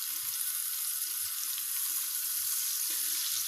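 Pieces of lamb tail fat frying as they render down in a pan, giving a continuous quiet sizzle with faint scattered pops and small bumps, and no one speaking.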